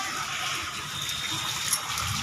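Water gushes steadily from a borewell into a courtyard, a continuous bright splashing rush at close range.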